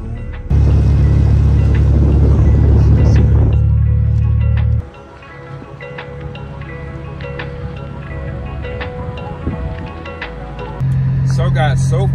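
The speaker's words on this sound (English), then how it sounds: "Driving great right now on the back roads." A Mercedes rolling along back roads while flat-towing a broken Porsche gives a loud, steady low road-and-engine drone inside the cabin. The drone dips quieter midway and returns at the end, and a voice talks over it.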